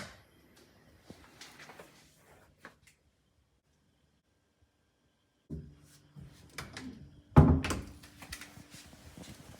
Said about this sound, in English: when I close the door, as soon as it stops detecting presence